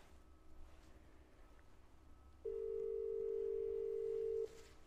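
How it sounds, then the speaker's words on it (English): A telephone ringing tone sounds on a call that goes unanswered, a single steady electronic tone lasting about two seconds over a faint, quiet room background. "There's nobody answering the phone."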